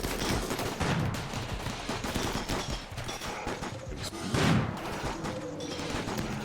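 Sustained gunfire in the colony-survival game RimWorld during a raid on barricades: a continuous dense crackle of many overlapping shots, with a heavier volley swelling near the end and no talking.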